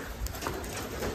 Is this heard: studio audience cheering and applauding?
no